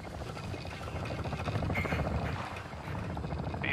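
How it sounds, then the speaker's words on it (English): Helicopter rotor and engine noise approaching in Call of Duty Modern Warfare II DMZ, a steady dense chopping roar that stays loud and close throughout, with no talk over it. "helicopter coming in"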